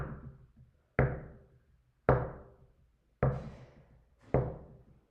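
Four sharp knocks on a hard object, spaced evenly about a second apart, each with a quick attack and a short resonant decay into near silence between strikes.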